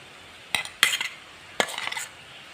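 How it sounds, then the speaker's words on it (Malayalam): Onion sautéing in a pan with crushed ginger, garlic and pepper, heard as a few separate scraping, stirring strokes against the pan over a faint background, with no talk. "ഇതും കൂടെ ചേർത്ത് നന്നായിട്ടൊന്ന് വഴറ്റണം"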